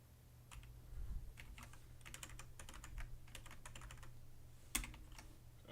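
A keyboard with its keycaps removed is typed on directly on the bare switches, giving a quiet, steady run of sharp clicks and clacks in irregular bursts, with one louder snap near the end.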